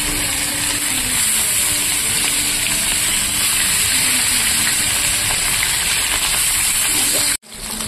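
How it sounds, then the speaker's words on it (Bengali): Hilsa fish pieces coated in salt and turmeric fry in hot oil in a frying pan, giving a steady, close, broadband sizzle and hiss that continues without a break, cutting off abruptly near the end. "নুন হলুদ মাখিয়ে রাখা মাছটাকে এবার আমি ভেজে নেব।"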